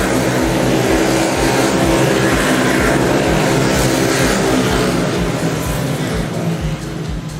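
Racing karts accelerate down the main straight at a club championship, a loud, continuous engine roar passing close by with a dense buzzing drone.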